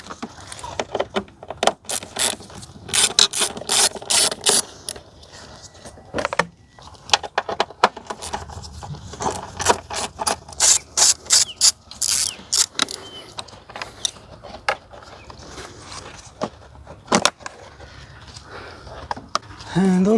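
A hand ratchet clicking in quick bursts while bolts come off an engine cover on a BMW N20/N26 engine bay, with metallic tool clatter and pauses between runs, close up.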